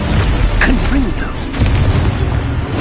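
A Confringo fire spell explodes in Hogwarts Legacy on PS4, a dull boom with a short burst amid continuous game noise and spell effects.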